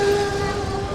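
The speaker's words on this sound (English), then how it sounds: "We got the tram car, one of the original ones going by." One of the original tram cars rolls past on the Wildwood beach boardwalk, a loud, steady rumble with a sustained tonal whine throughout.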